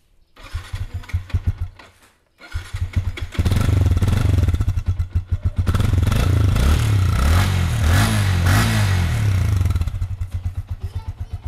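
A Royal Enfield Himalayan 400cc motorcycle engine is cranked, catches after a short pause, and settles into a loud, rough, thumping idle with revs rising and falling, close up and with no talk over it.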